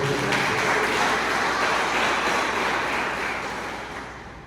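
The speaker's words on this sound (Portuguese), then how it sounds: "Você pode dar uma salva de palmas ao Senhor?" A church congregation gives a round of applause to the Lord during a service, a loud, continuous wash of clapping that holds steady and then eases slightly at the close.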